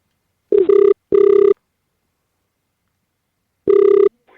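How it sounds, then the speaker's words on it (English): Outgoing call to a South African radio station, three clear double-tone rings with a pair in quick succession, then a gap before a third, heard cleanly over a phone line with silence between. "We're going to try and phone a South African radio station."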